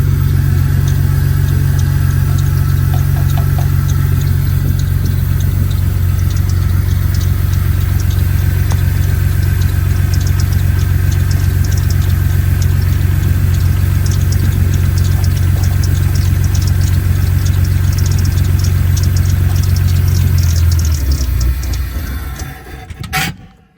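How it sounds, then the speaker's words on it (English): A 2000 Jeep Cherokee engine idles steadily and loudly with a low droning hum, then falters near the end and stalls as the fuel runs out, the sound cutting off. "I'm going to start the Jeep, pull the fuel pump relay, and let the motor run out of gas."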